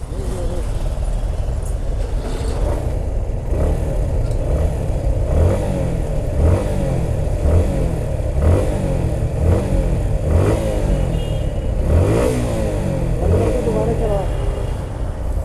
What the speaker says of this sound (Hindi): बंद करके दोबारा चलाओ, चलाओ, रेस दो